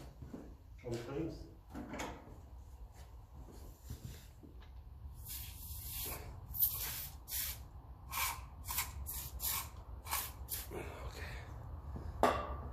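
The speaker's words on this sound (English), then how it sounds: "That's going to need a spray." An aerosol can sprays onto parts of a 1954 Ferguson 20 TEF diesel tractor in a series of short, sharp hissing bursts, close up, with muffled voices and handling clatter in between.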